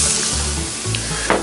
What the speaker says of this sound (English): Go ahead and put just a little butter. Bottom of the pot, in with our bacon. Let that start rendering.